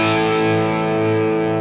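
An Ibanez RG 5121-BCF electric guitar plays a crunch tone through a Marshall SV20 amp into a cabinet with Vintage 30 speakers: one distorted chord rings out loud and sustained, fading only slightly.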